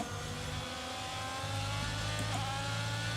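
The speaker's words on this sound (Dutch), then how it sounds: "Die Ferrari motor klinkt ook wel dik" Ferrari engine of a Formula 1 car in the racing game F1 22, a loud, continuous high-pitched whine that holds steady and rises slightly in pitch.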